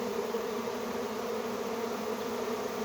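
A honey bee swarm buzzes steadily outdoors, a dense, continuous drone of many bees that holds level and fairly close throughout, with no voices.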